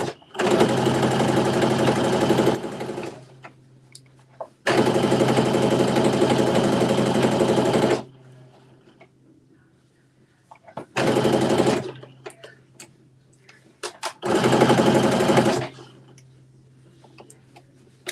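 A sewing machine stitches down a garment sleeve toward the wrist in four loud, even bursts of rapid mechanical whirring, separated by quiet pauses where the needle stops to pivot, with faint low hum between runs.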